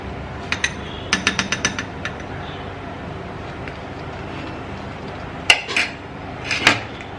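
A spoon clinks and scrapes against a dish while scooping blended potato puree, a few quick scattered taps early and another cluster of louder knocks near the end, with quiet room noise between.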